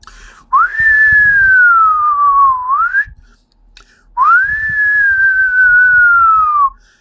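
Two long, steady human whistles, each a sustained tone that slowly glides downward, separated by a short pause. Close and clear, with no talking.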